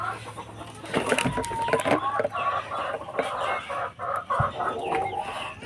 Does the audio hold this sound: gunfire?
no